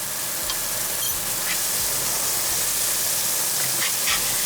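A wagyu steak sears loudly in a hot pan, a dense, steady hiss and crackle with a few brief clicks and pops standing out over the sizzle.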